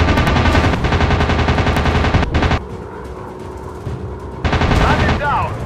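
A fighter plane's machine guns fire in Warplanes: WW2 Dogfight, one loud rapid burst of about two and a half seconds, then a quieter gap of engine drone, then a second burst.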